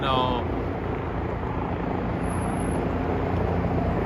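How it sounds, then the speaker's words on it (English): Helicopter taking off in Manhattan's Financial District, New York City, a steady loud rotor and engine drone filling the scene with continuous city-level noise and some background voices. "So usually about 2 helicopters take off at the same time."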